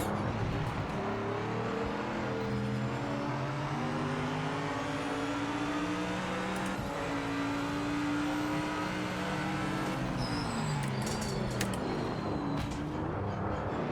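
Mercedes AMG GT3 race cars in Project Motor Racing during an endurance race at Imola, a steady droning engine note rising and falling through gear changes, loud and continuous with no voices.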